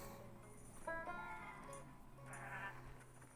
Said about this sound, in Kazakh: Жабыңдар ауыздарыңды маңырабай.